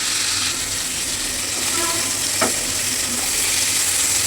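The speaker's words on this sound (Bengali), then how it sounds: "মাছগুলোকে ভেজে নেব" Fish sizzling in hot oil in a pan, a continuous close crackling hiss for the whole stretch, broken once by a brief tap of a utensil, with no talking.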